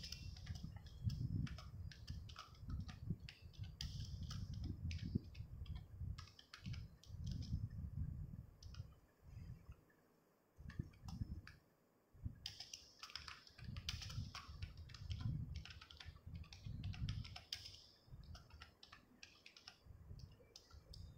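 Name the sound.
typing on a computer keyboard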